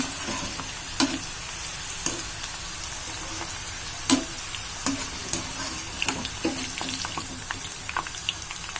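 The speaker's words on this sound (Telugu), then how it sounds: "ఈ విధంగా అన్నిటినీ వేయించుకుందామండి" Okra fries in a pan for a restaurant-style fry: a steady, close sizzle carries on throughout, broken by irregular clinks and scrapes of a spatula stirring, with no talk.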